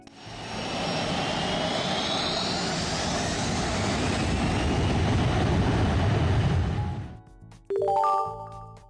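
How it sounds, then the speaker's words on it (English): An airplane drones past in a long, steady roar that builds and holds for several seconds, loud and near, before cutting off into a short musical chime. "An airplane."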